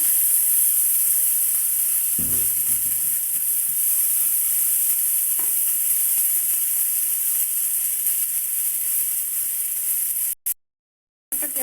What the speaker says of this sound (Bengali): ওই তেলে আমি এখন ধনে পাতা দিয়ে দেব তেলে